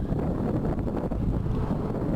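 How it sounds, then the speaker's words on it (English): Wind buffeting the microphone on a breezy day in Wyoming, a steady low rumbling roar with no voices. "It's a beautiful day today, a little windy, but it is Wyoming."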